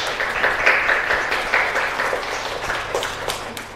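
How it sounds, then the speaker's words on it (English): An audience at a Singapore Python User Group meetup applauds a speaker, a full, crackling round of many hands clapping that swells early and then gradually thins out over about four seconds, with no talking on top. "let's have a round of applause for Sheng and see what we can do"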